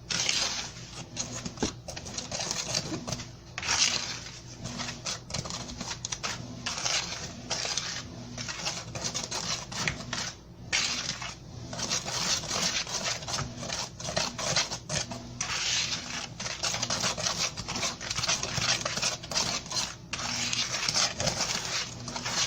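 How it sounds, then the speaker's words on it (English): A whisk scrapes and clatters briskly through dry ingredients for a vegan chocolate cake in a mixing bowl, a steady rapid gritty rubbing that runs on continuously with brief pauses. "we're gonna whisk this, our dry ingredients, whisk all that together."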